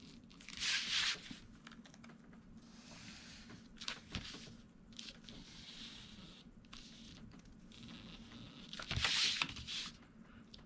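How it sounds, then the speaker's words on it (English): Trimming excess material around a box with a blade or scissors: scattered crinkling, tearing and crunching noises, with louder bursts near the start and end and quieter handling between, close by and without talk. "We just carefully go around and trim out."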